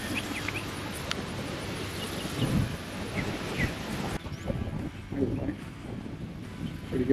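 Wind gusting across a bank while fishing, a rough buffeting rumble against the microphone that swells and dips throughout, with a person talking underneath.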